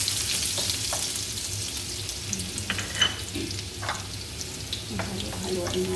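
Garlic frying in a wok for tuna chop suey, a steady close sizzle under scattered clinks and scrapes of a spatula against the pan, with no talking.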